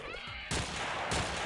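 A grenade blast in the strategy game X-piratez, a sudden loud burst followed by a second booming hit about half a second later, with rumbling noise between.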